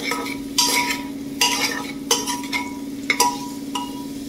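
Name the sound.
onions frying in a pan for veg biryani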